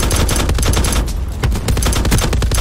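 LMG fire in Call of Duty Black Ops 4, loud and close, a dense sustained burst of rapid shots with a brief dip in the middle before the stream of fire resumes.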